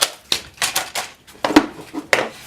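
A paper piece is trimmed for book prep in an art class, with a series of sharp, close clicks and short scraping strokes in an irregular rhythm.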